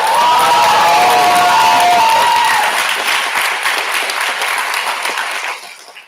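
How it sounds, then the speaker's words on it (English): Loud applause and cheering fill the hall at a speech and debate team's spring showcase and end-of-season awards, with shouts on top early before the clapping fades out. "Give another round of applause."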